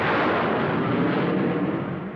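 A sustained roaring whoosh from a bomb launch in a retro puppet adventure, loud and broadband from the start, holding steady before slowly tapering off.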